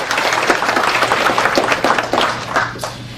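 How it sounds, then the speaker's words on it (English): Audience applause fills a conference hall at an AI research meeting, a dense, steady patter of many hands clapping close and loud throughout, with no voices over it. "We can give Michael a round of applause as well."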